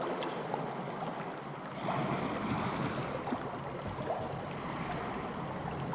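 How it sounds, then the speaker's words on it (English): Layered ocean sounds built from Syrinscape water and ship effects: continuous rushing surf and swooshing water around a sailing ship, steady and full with a gentle swell in intensity, no voices. "It creates a really realistic water sound"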